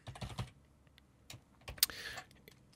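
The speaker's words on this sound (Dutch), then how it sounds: "wederom het adres van mijn website typen." Someone types a website address on a computer keyboard in quick, uneven bursts of close clicking keystrokes separated by brief pauses, with one sharper key strike near the end.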